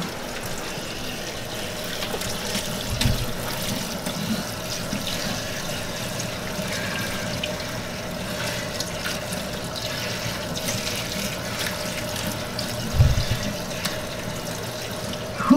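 Water running steadily from a tap while conditioner is rinsed out of hair, a continuous close hiss of flowing water with a couple of brief low thumps, no talking.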